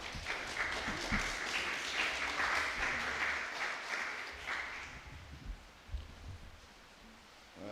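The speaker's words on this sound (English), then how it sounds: "So can we give our assistant leader a round of applause?" Audience clapping at a police youth club awards function, a soft, somewhat distant wash of applause that holds steady for several seconds, then thins out to a few scattered claps.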